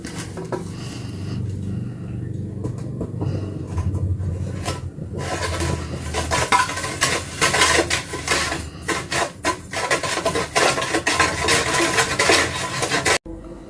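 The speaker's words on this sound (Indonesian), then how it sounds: "rebus hingga mendidih sambil tetap terus diaduk." A mixture stirred while it boils in a pot, with clinks and scrapes of a utensil against the pot that grow busier and more rapid partway through.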